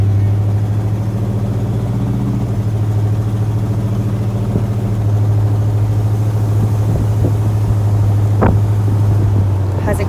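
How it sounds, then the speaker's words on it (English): Steady low rumble of a 1970 Oldsmobile Cutlass 442's exhaust while cruising down the road with the top down, a constant droning tone under wind noise, with a few faint bumps near the end. "Has a great exhaust system."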